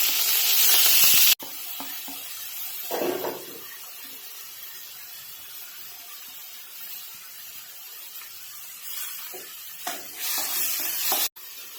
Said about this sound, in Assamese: পিঁয়াজখিনি আমি হাই ফ্লেমতে 2-3 মিনিটমান সময় এনেদৰে ভাজি ল'ব লাগিব